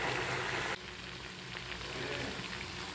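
Chicken pieces fry in hot oil with a steady, dense crackling sizzle, louder at first and then settling into an even hiss for a few seconds.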